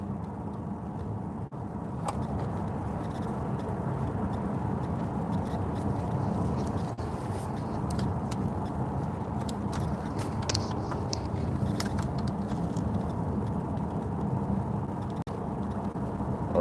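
A Mercedes CLA 350 4Matic drives along with a low, steady road rumble and tyre noise inside the cabin, broken by occasional small clicks and ticks.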